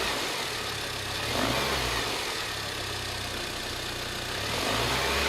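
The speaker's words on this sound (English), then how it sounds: "You'd almost think it was a piece of metal being whizzed around by the flywheel." A Mini One R50 car's Tritec engine idles steadily, with a loose metallic rattle running through the low rumble, continuous and fairly close.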